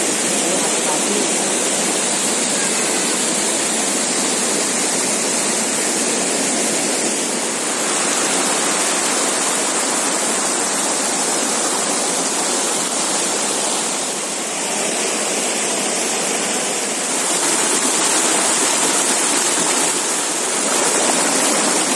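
A cold, high-flowing mountain river at Cibodas rushes in a steady, loud, broadband roar that continues unbroken throughout, with no voices heard over it.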